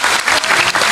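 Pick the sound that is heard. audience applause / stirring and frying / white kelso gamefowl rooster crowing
audience applause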